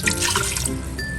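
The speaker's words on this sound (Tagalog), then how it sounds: "Ilalagay rin po tayo ng tubig." Water poured into a pan holding galunggong fish with ketchup and oil, a steady close trickle and splash of liquid lasting the whole moment, with a faint thin ring near the end.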